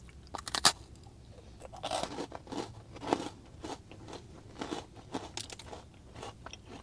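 Crunchy chewing of a dried mint chocolate chip ice cream sandwich, close and quiet, with repeated uneven crunches and bites spread through the clip and no speech.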